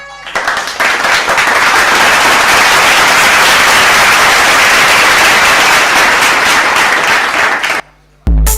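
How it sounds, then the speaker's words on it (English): Loud, sustained audience applause fills an awards ceremony hall, dense clapping holding steady for several seconds before cutting off near the end. "Join me in giving a big, big round of applause"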